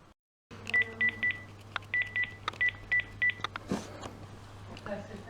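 A telephone is dialed as a rapid series of bright touch-tone beeps in two bursts, loud and close, followed by a short click and a low background hum in a Care Bears cartoon.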